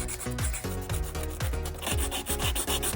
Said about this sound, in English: Now I'm gonna take some sandpaper. I'm using 220 grit. I'm just gonna sand all around here.